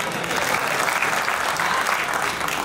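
Applause from an audience at a Hindi poetry gathering (kavi sammelan) in Paota, steady dense clapping from many hands filling the space throughout, no voices over it.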